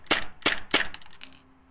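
A Tokyo Marui airsoft gun fires three sharp, snappy shots in quick succession, each a crisp crack close to the listener, followed by a faint lingering hum.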